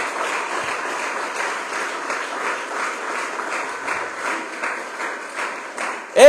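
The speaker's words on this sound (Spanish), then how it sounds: "dele ofrenda de palmas al Creador" A church congregation claps during a Spanish-language service, a steady rhythmic wash of hand claps at moderate level with a brief louder burst at the very end.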